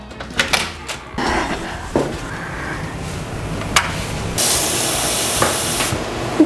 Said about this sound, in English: Yeah, one more door right for the corridor.